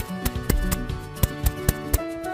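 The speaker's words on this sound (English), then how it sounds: "the reason why we want to put a bunch of pellets in is so you can get like the clinking sound like this" Small plastic pellets clink and rattle inside a homemade stuffed toy as it is shaken, giving a string of sharp, close clicks and taps in an uneven rhythm with no talking.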